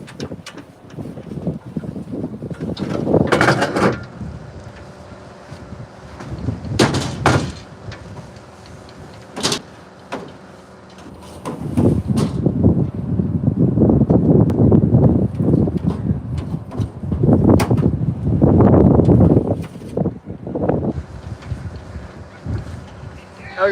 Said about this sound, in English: It's so windy right now.